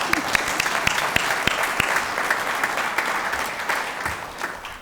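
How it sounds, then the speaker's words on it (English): A crowd at a business chamber gift announcement claps steadily, a dense patter of hands applauding at moderate volume that fades slightly toward the end. "can I get a round of applause for that?"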